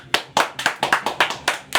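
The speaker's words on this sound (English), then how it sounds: "I want a round of applause for him for showing up." A small group clapping at a podcast recording, a short burst of about eight sharp, close hand claps in a quick, slightly uneven rhythm, with no talk over them.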